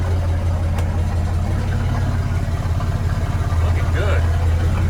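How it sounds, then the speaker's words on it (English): Willys Jeep CJ5 fitted with a swapped Chevy 4.3L engine idling nearby, a loud, steady low rumble with a faint uneven throb, alone without talk. "It fires up, idles."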